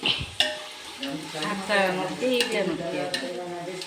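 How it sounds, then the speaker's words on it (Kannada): Masala avalakki (flattened rice) being stirred in a cooking pan, with soft scraping and light sizzling running steadily beneath a person talking throughout. "ಸಾಕು ಇವಾಗ ಚೆನ್ನಾಗಿ ಆಡಿಸಿ ಬೇಯಬೇಕು"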